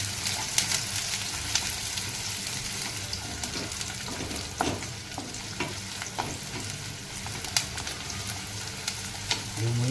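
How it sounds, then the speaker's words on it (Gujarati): Chopped onions sizzle and crackle steadily in hot oil in a home kitchen pan, a dense continuous frying hiss with scattered pops and occasional stirring scrapes, close and fairly loud with no voices. "હવે આપણે આ ડુંગળી નાખી દઈશું અને થોડી લાલાશ પડતી કરવાની"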